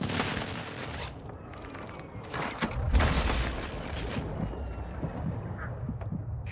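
Airstrike explosions in the video game Call of Duty Warzone: a rolling fusillade of heavy booms and blasts, loudest around the middle, trailing into distant rumbling fire.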